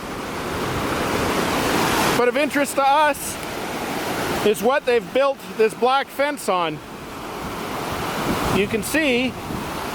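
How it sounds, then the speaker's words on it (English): A broad, steady roar of rushing water rises from Twelve Mile Creek, a raging river below the DeCew Falls power plant near the second Welland Canal. Someone talks over it in several bursts. "It's more of a raging river."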